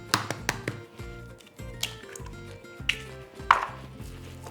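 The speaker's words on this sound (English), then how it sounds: "into that I'm gonna crack 3 eggs" Three eggs cracked into vegetable oil for a thick parsnip cake batter, a series of sharp taps and cracks against a bowl with brief pauses, close and fairly quiet.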